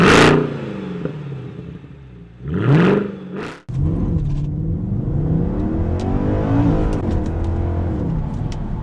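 Mercedes C63 AMG engine barks to life with a loud cranking start, settles briefly, then blips through two sharp revs before a deep, steady burbling idle runs on close by.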